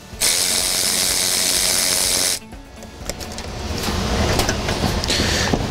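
A ratchet loosens an 11 mm clamp on the plastic charge air cooler pipe of a Ford Powerstroke 6.7L diesel truck. A loud steady hiss runs first, then quick close ratcheting clicks come in bursts, with no talking.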